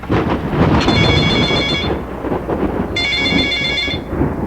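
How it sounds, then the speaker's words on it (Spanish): A telephone rings in two distinct bursts of about a second each, loud and close, over a continuous rumbling, rain-like background wash. "Fue entonces cuando el teléfono volvió a sonar."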